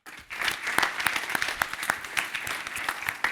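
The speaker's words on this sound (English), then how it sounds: "one last round of applause for these amazing 5th graders" An audience gives a round of applause for a fifth-grade kid governor's cabinet at an inauguration news conference, dense steady clapping that starts abruptly and carries on throughout, fairly close.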